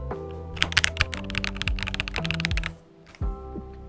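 Fast clicky typing on a mechanical computer keyboard, close and crisp, a dense run of key clacks that pauses briefly and then resumes with a few more strokes.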